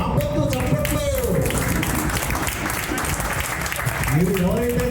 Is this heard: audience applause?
yes